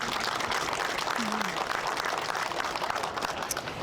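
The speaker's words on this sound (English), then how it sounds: "So a big round of applause for Herb." Audience at a historical society mural ribbon-cutting ceremony gives a steady round of applause welcoming a new board member, dense clapping throughout with a brief voice mixed in.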